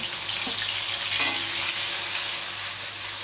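Spice paste sizzles loudly in a pan of green peas, a steady close-up frying hiss with occasional stirring scrapes, no voices.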